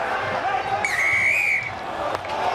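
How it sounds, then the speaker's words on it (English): A referee's sharp whistle blast cuts through at a schools rugby match, one sustained shrill tone over a murmuring crowd and faint commentary. "The referee's whistle blows."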